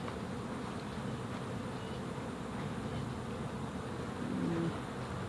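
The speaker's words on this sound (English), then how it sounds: "That one's got a few more bees on it than the other one had." Honeybees on a hive frame, a steady close buzzing drone with a few individual bees whining louder near the end, no voices over it.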